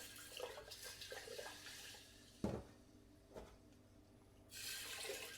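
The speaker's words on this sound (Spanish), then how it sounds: "ponerle poca cantidad de agua como para que todas las semillas queden sumergidas" A small amount of water poured over sprouting seeds, with faint trickling and a couple of short splashy knocks, then a steadier hiss of flowing water near the end.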